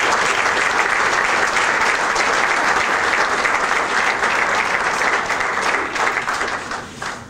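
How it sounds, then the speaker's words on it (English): A full audience at a roast claps in loud, sustained applause that fades slightly near the end. "I would like you to give Doug a round of applause"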